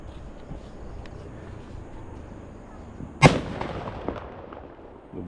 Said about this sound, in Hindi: तो भाई इससे तगड़ा पटाखा है ही नहीं